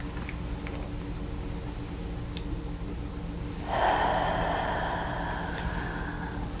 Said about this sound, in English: Just breathe in.